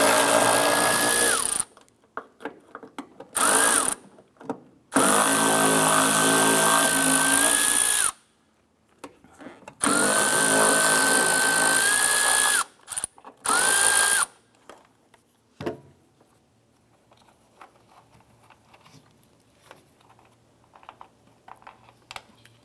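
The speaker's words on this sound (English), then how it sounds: "Using a 10mm socket and extension, we're going to remove these 3 bolts holding the wiper transmission arm here, or shaft." A power tool with a 10mm socket and extension whirs in several loud, steady bursts while removing the wiper transmission bolts on a 1994-2004 Chevrolet S-10, followed by quieter clinks and handling noise.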